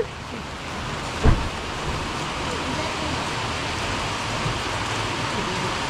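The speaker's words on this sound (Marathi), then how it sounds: "पाऊस लय आहे" Heavy rain in Ratnagiri pouring steadily as a dense, even hiss, with a single sharp knock early on.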